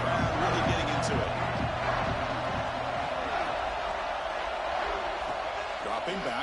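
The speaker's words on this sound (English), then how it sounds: "3rd down and the crowd really getting into it" Football stadium crowd roaring on third down, a dense, sustained wall of cheering throughout, with a commentator talking over it.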